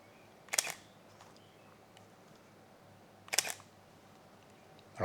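Two crisp, soft shutter releases of a Leica M10 digital rangefinder camera, close and isolated in near silence, a few seconds apart, with another starting at the very end.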